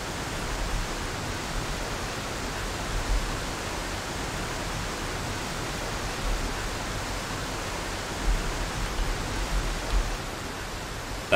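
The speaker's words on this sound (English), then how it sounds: "That waterfall is really loud." A roaring waterfall in Ghost Recon: Desert Siege gives a loud, steady, unbroken rush of broadband noise that holds even throughout, with no voices over it.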